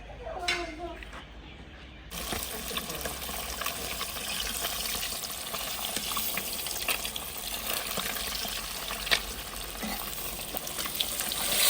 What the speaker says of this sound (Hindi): फिश फ्राई करना मैंने शुरू कर दी है